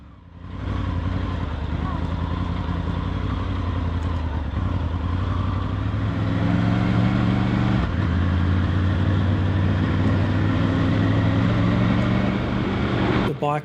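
A Triumph Tiger 900 Rally Pro motorcycle rides off-road through bush, its engine a steady, loud drone with rising pitch and rattling over rough ground, close and continuous throughout.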